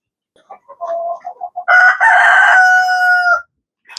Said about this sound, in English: These roosters are being a little belligerent